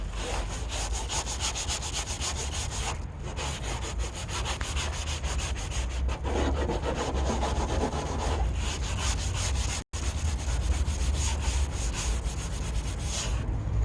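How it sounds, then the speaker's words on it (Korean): Steady, continuous scrubbing of 240-grit sandpaper across a car fender being repaired for corrosion with metal putty, close and loud, with a brief break near the end and no talking. "지금 얘는 240방 사포인데"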